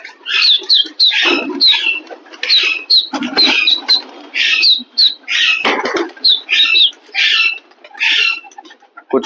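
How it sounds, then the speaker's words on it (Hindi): Pigeons flap their wings in several sharp, broadband bursts amid a steady run of harsh squawking and chirping calls, close and fairly loud, with no talk. "ये भाइयों कुछ कबूतर फड़काते हैं,"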